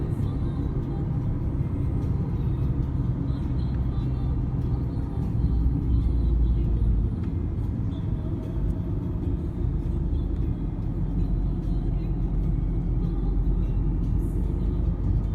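Car cruising in third gear around 2000 rpm on a motorway during a driving lesson, a steady low engine and road rumble heard from inside the cabin throughout.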